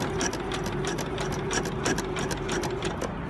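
A sewing machine runs steadily, stitching a quilt along a pocket pebbler template, its needle chattering in a fast, even rhythm over a constant motor hum, close and continuous with no talking.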